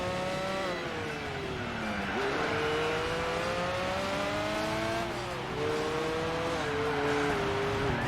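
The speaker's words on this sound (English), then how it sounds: "I can hear its engine." A TVR sports car engine in the Gran Turismo 4 racing game drones and revs through repeated gear changes, its pitch climbing and dropping in steady sweeps at a constant close, loud level.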